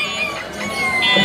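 Native desi chickens at the Mirpur-1 chicken market give loud, close clucking and crowing-like calls in one brief, continuous burst over busy market noise.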